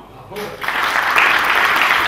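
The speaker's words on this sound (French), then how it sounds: "Donc voilà, on va applaudir tout le monde." Audience applause at a history-of-medicine quiz event, starting after a brief quieter moment and swelling into steady, full clapping that carries on loudly to the end.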